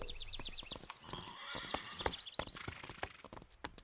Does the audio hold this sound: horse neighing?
yes